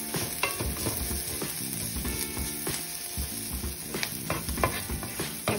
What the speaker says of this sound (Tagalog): Kaya gisa mo lang na garlic.